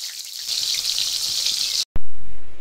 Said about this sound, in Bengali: চিংড়ি মাছগুলোকে এখন আমি ভেজে নেবো